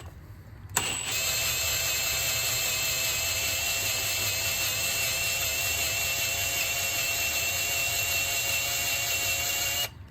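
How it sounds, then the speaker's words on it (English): A drill runs steadily while drilling out a stripped motorcycle motor mount for a Heli-Coil insert: a high, whining motor tone starts abruptly, holds at a constant pitch for about nine seconds, then cuts off, close and loud with no talking. "Okay, we finished drilling."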